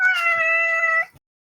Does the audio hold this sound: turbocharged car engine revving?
no